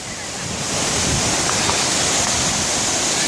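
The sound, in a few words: Battle Creek Falls waterfall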